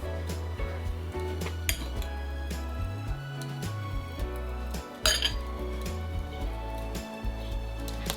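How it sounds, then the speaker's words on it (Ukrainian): Eggplant pieces being moved into a roasting pan, with repeated metallic clinks and scrapes of utensils against cookware over a steady low kitchen hum, including a sharper clatter midway. "Баклажани перекладаємо у жаровню."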